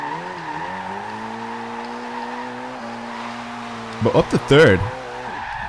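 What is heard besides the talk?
Ford Focus drifting sideways, tires squealing, video game Forza Horizon 2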